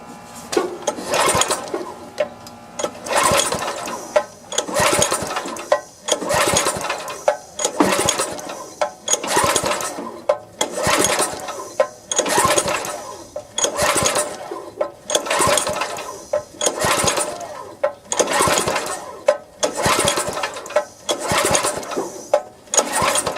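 Pull-starting the gasoline engine of a tiller that won't run, with about fifteen repeated rattling cord pulls at a steady rhythm, each a rising ratchety whir that dies away without the engine catching.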